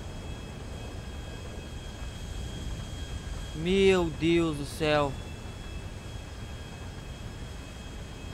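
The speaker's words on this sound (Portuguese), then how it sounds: "O avião tá perdendo voo, cara." A light aircraft engine in GTA 5 drones steadily as the plane loses altitude in a hurricane. The hum holds throughout, with a brief excited exclamation from a man partway through.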